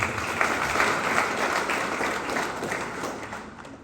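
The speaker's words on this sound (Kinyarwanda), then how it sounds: "Mukomere Yesu amashyi yo gucungurwa." A church congregation applauds steadily during a sermon, a dense wash of clapping at even loudness that thins slightly toward the end.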